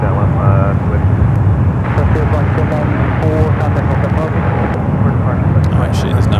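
A heavy Boeing 787 Dreamliner rolls down the runway at San Francisco airport, a loud continuous roar of jet engines with a steady rumble throughout, with a radio voice and chatter faintly underneath.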